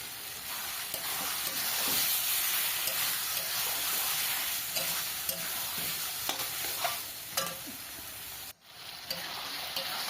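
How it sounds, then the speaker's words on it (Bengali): Curry masala with chili powder sizzles and fries in a pan, a steady close hiss broken by repeated clicks and scrapes of stirring, with a brief dip near the end. "বেশ সুন্দর করে এখানে কষানো হয়ে গেছে।"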